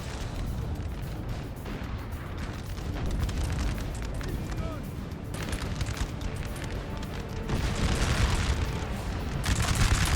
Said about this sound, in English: They're just having a little skirmish phase with their artillery.